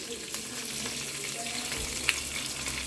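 Cumin seeds frying in oil crackle with a dense, even sizzle, dotted with small pops, close and moderately loud throughout with no talking.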